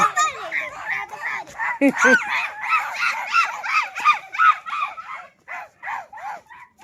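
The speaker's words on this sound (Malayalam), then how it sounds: "ദേ അവിടെ ഒരു പട്ടി കിടന്ന് ബഹളം വെക്കുന്നു" A dog barks repeatedly in quick, yelping bursts at a moderate distance, with a brief voice early on.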